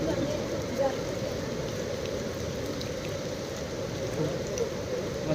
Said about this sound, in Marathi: इकडे खूप मुसळधार पाऊस सुरू आहे